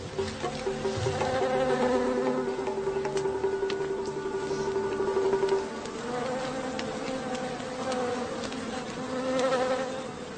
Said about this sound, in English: The smoke may make the bees less aggressive, but it reduces visibility to zero.